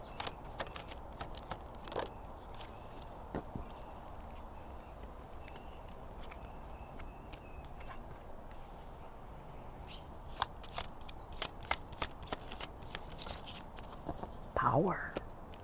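A deck of reading cards is shuffled close by in quiet surroundings, making soft papery riffles and brisk flicks in scattered bursts, with light handling rustles between them.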